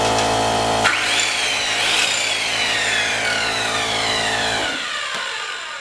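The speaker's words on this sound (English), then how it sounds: "if this saw will start up while each of these other loads is running." A power saw running from a cheap inverter whines loudly up to speed, holds a high rising tone for a few seconds, then cuts off and spins down, close by with no talk.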